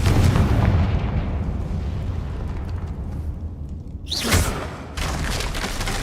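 Magical fire spell explosion in a Hogwarts Legacy fantasy adventure game: a loud, rumbling blast that roars for several seconds and then settles, followed by a brief whooshing burst with a sharp crackling tail.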